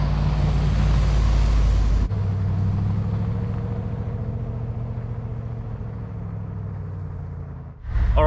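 A car rolls along a scenic Colorado mountain road, giving a steady, close engine and tire rumble that eases slightly in level before a brief shift at the end.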